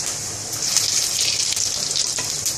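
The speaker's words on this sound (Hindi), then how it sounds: "अभी हम इसमें जीरा डालेंगे" Cumin seeds sizzle in hot oil for kadhi pakoda with a bright, hissing crackle that swells after the first half-second and holds steady and close throughout.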